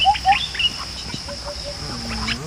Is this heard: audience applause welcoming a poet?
no